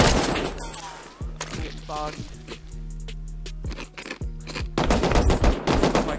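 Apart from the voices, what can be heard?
AK rifle gunfire in the video game Rust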